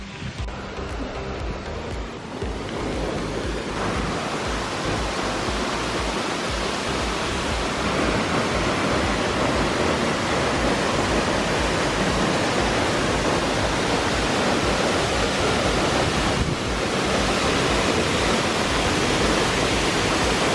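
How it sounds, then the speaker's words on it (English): Glen Ashdale Falls on the Isle of Arran, Scotland, a large waterfall heard from a viewing deck: a dense, steady roar of falling water fills the whole stretch, loud and unbroken from start to finish. "That was a granddaddy of a waterfall."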